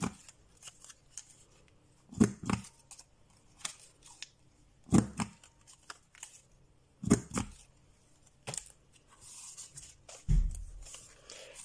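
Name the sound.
cutting paper to round two corners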